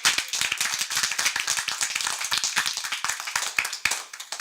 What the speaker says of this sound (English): See you with a round of applause